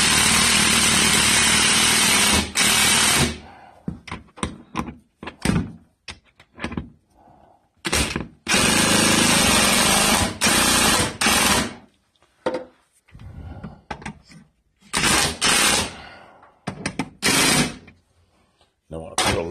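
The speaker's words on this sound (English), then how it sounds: "I'll go ahead on and tighten these lag bolts up." A power tool drives lag bolts into a wall for a TV wall mount, loud buzzing bursts of varying length with short pauses between, close up, several rapid stuttering pulses toward the end.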